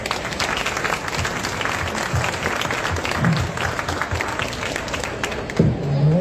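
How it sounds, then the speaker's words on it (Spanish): An audience at a book event marking 50 years since the civic-military coup gives sustained applause, a steady wash of clapping with brief voices breaking through near the end. "Benpo Jardinelli, les pido un aplauso."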